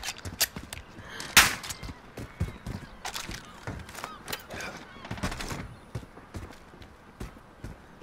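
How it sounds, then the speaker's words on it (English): Call of Duty: Modern Warfare gunfire comes as scattered sharp bursts and bangs at irregular intervals, with faint voices underneath. "You keep on with that machine gun."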